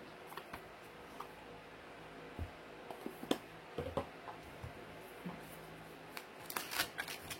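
A deck of oracle cards is shuffled by hand at close range, a soft continuous riffling with small flicks and taps throughout and a busier flurry of card snaps near the end, with no voice.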